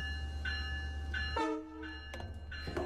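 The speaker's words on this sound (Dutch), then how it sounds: "Hij zit die trein te filmen en die trein toetert." A train horn toots in a few short, separate blasts with gaps between them, loud and fairly close over a low rumbling background.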